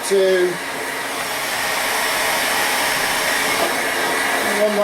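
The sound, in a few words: heating engine crankcases to 75 degrees C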